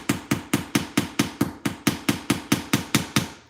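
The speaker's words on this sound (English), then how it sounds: "I'm just hammering right on top of this large steel bench block." A hammer strikes a metal blank resting on a large steel bench block, about fifteen sharp, ringing blows in an even, brisk rhythm, close and alone.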